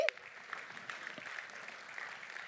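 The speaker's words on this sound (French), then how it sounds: "on les applaudit" Soft audience applause for the editorial committee at a French conference on work and AI, a faint, steady patter of clapping from a room after a brief opening burst.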